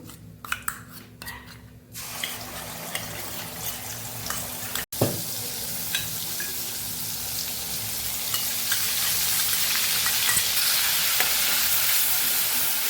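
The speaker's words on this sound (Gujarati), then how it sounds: "મસાલાને આપણે સરસ સાતડી લેવાનો છે" Spice masala with carom seeds and asafoetida sautés in hot oil for a Kathiyawadi cluster bean and potato curry, with a few sharp crackles at first, then a steady sizzle with faint stirring.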